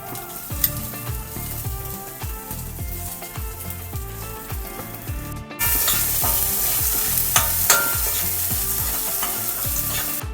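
Lemon rice being stirred and fried in a pan, with a steady sizzle and scraping, clattering spoon strokes throughout that grow louder and brighter halfway through.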